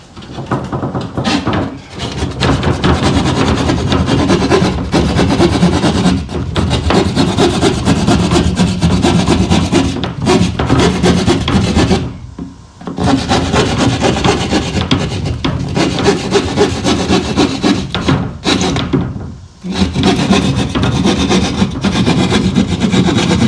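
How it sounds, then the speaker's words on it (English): A sheetrock hand saw rasps through drywall, cutting a circle in fast, continuous back-and-forth strokes that are loud and close, broken by three brief pauses. "And then you get your sheetrock saw right here."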